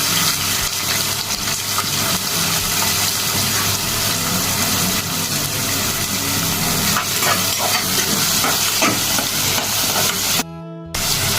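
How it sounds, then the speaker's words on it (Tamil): Onions dropped into hot oil in a pressure cooker with cinnamon, cloves and cardamom, producing a loud, steady, close sizzle that fills the whole stretch, cut briefly near the end. "இப்போ வெங்காயம் சேர்த்துக்கிறேன்."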